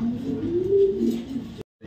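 Racing pigeons coo in a single rising and falling throaty call up close, cut off abruptly near the end.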